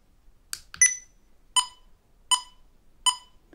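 A Donner DT-4 clip-on tuner in metronome beat mode ticks at 80 beats per minute, giving a few short, clean electronic beeps at even spacing, faint and alone.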